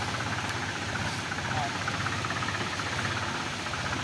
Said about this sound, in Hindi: तो चलो आपको दिखाऊंगा जब जोड़ लगाया ट्रैक्टर, आपको भी पता लग जाएगा कितनी तगड़ी चढ़ाई थी।